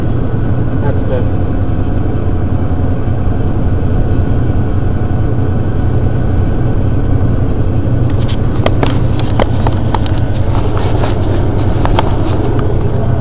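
A pickup truck engine cruising in fifth gear at about 42 mph and 1400 RPM hums low and steady at an even pace, joined later by a few sharp clicks and rattles.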